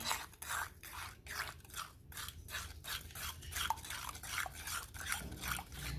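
Ground homemade sugar being mixed into a chocolate donut glaze, with steady rhythmic scraping and stirring strokes repeating close up, quiet and without speech.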